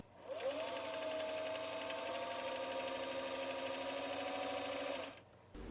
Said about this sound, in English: On the ruffle piece, I'm going to do 2 rows of stitching about 1/4 inch apart, parallel to the row edge here,